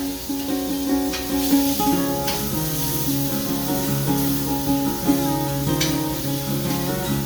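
Thick burgers sizzle steadily in a cast iron skillet, a loud continuous frying hiss with occasional scrape and clink accents, close up and with no talking.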